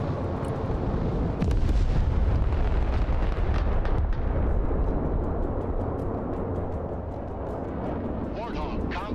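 Bombs from a Warthog gun run explode in the Broken Arrow war game, a continuous loud barrage of deep booms and rumbling blasts under radio-style voice chatter.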